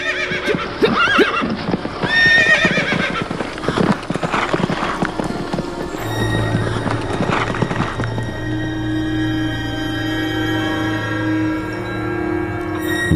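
Ridden horses whinny loudly and close by over a busy clatter of hooves, then the hoofbeats settle into a steady clip-clop as a low drone and sustained music-like tones rise behind them.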